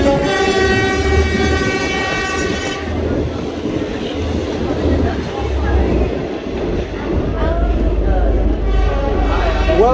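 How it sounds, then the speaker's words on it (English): Train in Kampala, Uganda, heard from on board: a loud sustained horn blast opens, then steady rolling rumble and rail clatter continue close by, with people talking faintly inside the carriage. "I'm here in a train"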